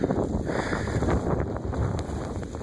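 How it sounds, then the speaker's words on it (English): Blizzard wind gusting across a face and microphone in sub-freezing cold, a loud buffeting roar with low rumbling and fluttering bursts, steady for the whole stretch with no talk. "You can hear the wind blowing across my face right now."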